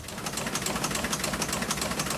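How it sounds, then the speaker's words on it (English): A historic newspaper printing press in the Vineyard Gazette offices in Edgartown thumps and clatters in a fast, steady rhythm, a continuous busy machine noise close at hand. "That's the sound of the historic press in the Vineyard Gazette offices in Edgartown printing the paper."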